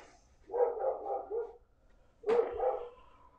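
Two short, loud bursts of dog barking sound close by, each a quick run of several barks separated by a brief silence.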